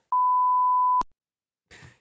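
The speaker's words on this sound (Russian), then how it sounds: "и там вот это пищание, как будто человек выматерился яростно" A single loud, pure censor beep of about one second from a TV show, ending in a sharp click, followed by a brief muffled noise after a moment of silence.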